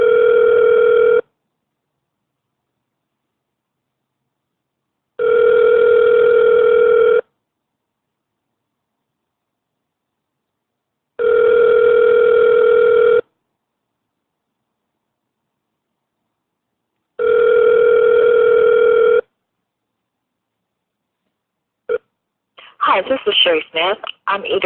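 Telephone ringback tone during a call transfer, four long even rings separated by gaps of silence, clear and close, followed by a burst of a voice at the end.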